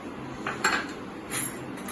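A utensil scoops ghee into a non-stick frying pan for mutton ghee roast, producing a few soft, close metallic knocks and clinks against a low steady background hum.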